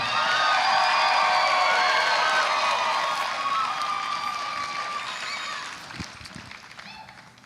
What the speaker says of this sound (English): Let's give our semifinalists another big round of applause,